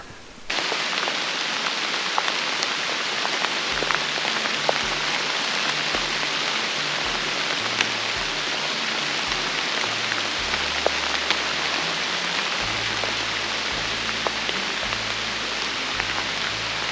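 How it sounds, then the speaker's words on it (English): Light drizzling rain falling outdoors during an autumn archery hunting season, a steady soft hiss of droplets on surfaces with occasional sharper drips, close and unbroken throughout, no voices. "It's drizzling down rain a little bit"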